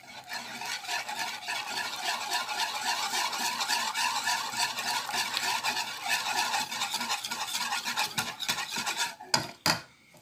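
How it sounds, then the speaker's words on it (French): Hot milk is added little by little to a mixture while a utensil stirs briskly in the bowl. The scraping and clinking keep a fast, steady rhythm, then end in a few sharp knocks, with no talking. "Donc voilà, mon lait est bien chaud. Donc on va le rajouter à notre préparation petit à petit."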